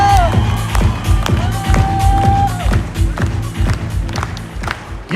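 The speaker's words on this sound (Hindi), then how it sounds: "जोरदार ताली बजाओ।" An audience breaks into loud applause with cheering and whoops, a dense burst of clapping close by that carries on throughout.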